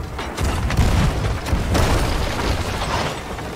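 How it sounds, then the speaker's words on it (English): A ship's cannon fires a curse ball in the pirate game Sea of Thieves, a deep booming blast that rolls on with mechanical clatter and rumbling wash for a few seconds. "Oh, they missed us with a curse ball"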